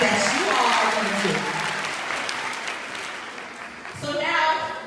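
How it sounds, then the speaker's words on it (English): A conference audience claps for themselves, a steady burst of applause with brief voices and a short musical swell near the end. "So clap for yourselves for all the amazing things that you all are going to do."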